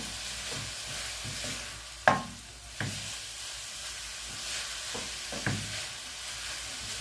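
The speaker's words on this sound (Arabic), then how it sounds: "تشويح تشويح كده" Vegetables sauté in a pan with a steady, close sizzle, broken by repeated scraping and knocking strokes of a stirring utensil.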